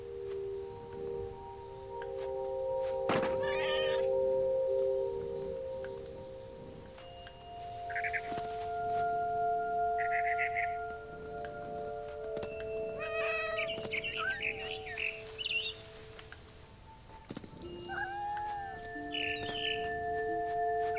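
A cat meows repeatedly in the video game What Remains of Edith Finch, a series of clear drawn-out mews and wails spaced across a steady ambient game soundscape, with occasional bird chirps.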